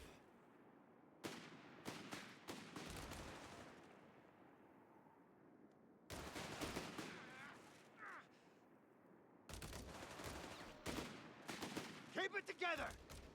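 Gunfire in Company of Heroes 3 as grenadiers come under attack, bursts of rifle and machine-gun shots with heavy booms arriving in loud clusters separated by brief lulls, under a voice speaking.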